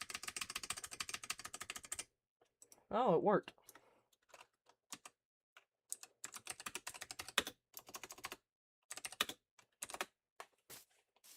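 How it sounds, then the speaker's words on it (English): Rapid clacking keystrokes from a loud computer keyboard come in close bursts separated by short pauses, with a brief spoken remark between them. "My loud keyboard that my brother gave me."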